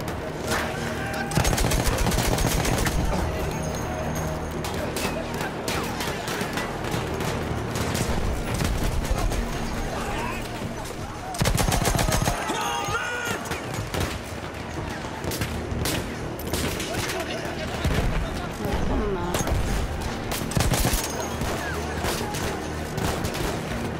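Battlefield gunfire, dense and loud, with bursts of rapid shots and heavy reports crowding the mix, in near-continuous combat noise through most of the stretch and short lulls between volleys.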